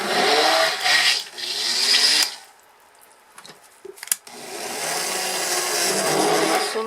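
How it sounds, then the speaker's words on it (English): A stick blender whirs loudly in two long bursts mixing soap oils, with a quiet pause and a few soft knocks between them. "I'll get my stick blender out, and we'll see what we can do to blend this in."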